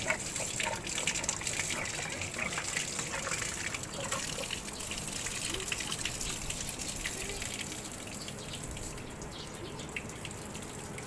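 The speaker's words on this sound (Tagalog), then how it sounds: "Ngayon tatanggalin ko lang tong tubig dito sa radiator" Water draining out of a car radiator, a continuous hissing, splashing gush that pours steadily for about eleven seconds at close range, fairly faint and without speech.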